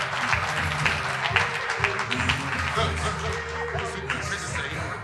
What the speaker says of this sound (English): Can we give Declan a round of applause again, please